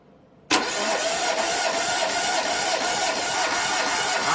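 A car engine cranking and turning over with the accelerator pedal held to the floor during a cylinder compression test, starting abruptly and running as a steady, loud, continuous churn to the end with no talk.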